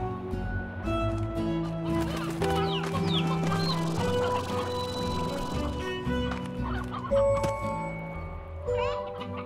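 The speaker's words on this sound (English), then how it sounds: "Oh, hens. Doing your thing up here." Hens clucking in the video game Slime Rancher, repeated short clucks and squawks in the foreground over layered game music and ambient tones.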